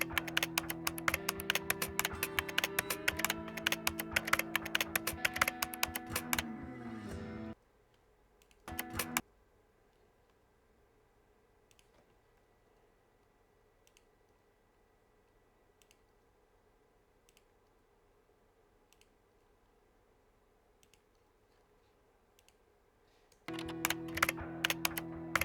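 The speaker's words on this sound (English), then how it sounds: "there we have a little keyboard typing" Finger typing on a computer keyboard, a dense run of quick clicks and taps for about seven seconds, then near silence with scattered faint taps, and a burst of typing returns at the end.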